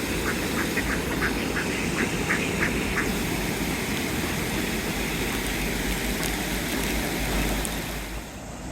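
Ducks quack in a quick run of faint calls while being fed beside a silty brook at Dawlish on the English coast, heard over steady rushing water and outdoor wash.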